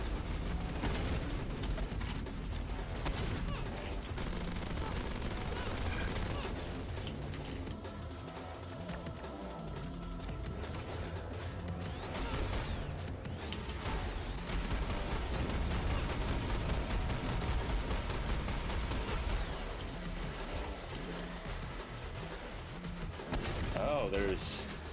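A video game plays machine gun fire and other gunfire in dense bursts over a busy game soundtrack, with a person talking over the noise.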